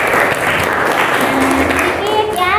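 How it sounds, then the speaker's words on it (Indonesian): Applause from a classroom of students, a dense wash of clapping that holds steady and loud throughout, with a faint voice and a few brighter tones near the end. "Tepuk tangan untuk kalian semua."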